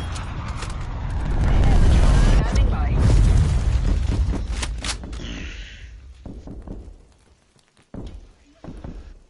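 Cruise missile strike in Call of Duty Cold War: a heavy booming explosion with rumbling low-end and crackling debris, loud and sustained before fading into quieter scattered game sounds.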